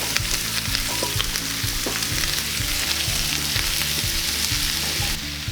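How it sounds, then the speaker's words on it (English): Onion fries in butter in a pan with a loud, steady sizzle close by, while a low rhythmic hum pulses underneath; no one speaks. "butter in the pan. Don't let this burn, don't let it brown. Get your onion in."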